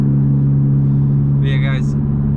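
A straight-piped 2021 Honda Civic FK7 hatchback with a Skunk2 exhaust holds a steady, loud low drone throughout, with a brief voice speaking over it partway through.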